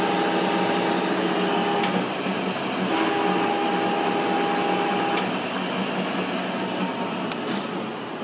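A Toshiba-Shibaura BFT-13C horizontal boring mill runs with its screw and key bar turning, giving a steady mechanical whine and hum with faint periodic ticks over about eight seconds, no talking.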